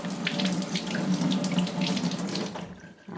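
Tap water runs steadily into a sink, rinsing lint off a machine-washable makeup sponge, a continuous close splashing rush that thins out near the end, with no talking.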